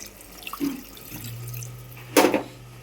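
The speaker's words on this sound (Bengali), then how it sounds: "তো এবার আমি জল দিয়ে দেবো।" Water poured into a pan of braised chicken being cooked in a Bengali-style chicken kosha: a brief, close splash and rush of liquid near the end, after a quiet stretch with a low steady hum.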